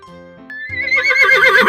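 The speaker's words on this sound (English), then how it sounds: "It's a horse." A horse neighs loudly and clearly, a rising whinny that swells into a long, quavering call over the final second, with no talk around it.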